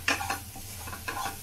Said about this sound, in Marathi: आलं आणि लसूणचा जो कच्चेपणा आहे तो निघून जाईपर्यंत जरा ही फोडणी परतायची आहे